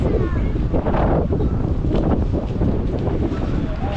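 Strong, very cold wind in Canada buffets the microphone in a continuous roar, with faint voices underneath.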